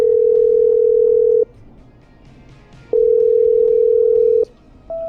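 In the video game Killer Frequency, a phone call is patched through with a ringback tone: two long, steady electronic beeps separated by a pause, then a third begins. The tone is loud and clear, and no one talks over it.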